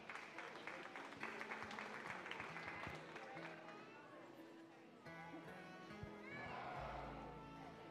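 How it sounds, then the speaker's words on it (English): A crowd at a county livestock sheep show claps for the exhibitors, faint, steady applause in a large arena with a hum underneath and voices talking over the end. "Let's give all our exhibitors a great big round of applause."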